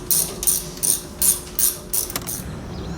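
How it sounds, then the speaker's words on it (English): Ratchet wrench tightening sway bar bolts on a 2014+ Chevy Silverado or GMC Sierra 1500 pickup, five or six crisp bursts of rapid pawl clicks in a steady rhythm, close and fairly loud, with no talking. "Now we're just gonna tighten down our sway bar."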